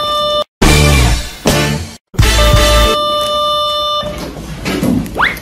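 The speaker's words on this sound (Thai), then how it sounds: "อันนี้คือเสียงออดนะคะเมื่อกี้" An electronic school bell in an American school sounds as a loud, harmonic buzzing tone in bursts separated by short gaps, then fades under a faint background murmur.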